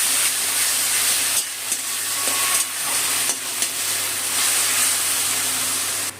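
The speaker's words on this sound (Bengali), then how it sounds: "এর মধ্যে আদা রসুন আর কাঁচা লঙ্কা বাটাটা দিয়ে দিলাম বাটা মশলাটা কষিয়ে দেবো" Ginger, garlic and green chilli paste sizzling in hot oil over fried onions, a steady close hiss throughout with no voices.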